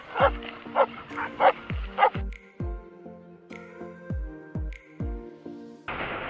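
Several dogs bark and yip in quick bursts, some high and sharp, others deeper, with a whimpering tone, fairly close.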